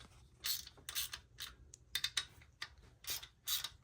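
Ratchet wrench working bolts loose on a BMW 335d engine, a series of close, sharp clicking bursts in irregular short strokes with quiet gaps between, no talking.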